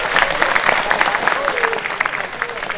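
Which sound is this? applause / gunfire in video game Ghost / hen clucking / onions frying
applause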